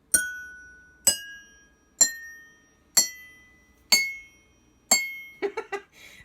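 Water-filled drinking glasses struck one at a time as a water xylophone ring out as six clear, evenly spaced glassy chimes that decay, followed by a quick run of softer taps at the end.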